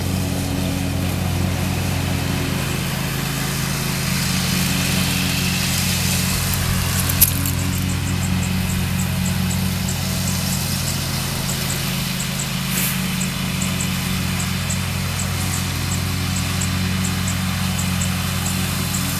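Lawn mower mowing a yard, a steady droning engine hum heard at moderate distance that runs continuously for about nineteen seconds, with a couple of faint clicks and no talking.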